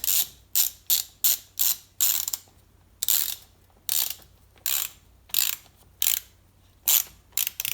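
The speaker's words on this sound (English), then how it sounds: "Got my high dollar wrenches out here." Wrenches ratchet on a Sea-Doo Speedster Mercury Sport Jet engine in quick close bursts of clicking, broken by short pauses, with no talk.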